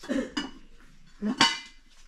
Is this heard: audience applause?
no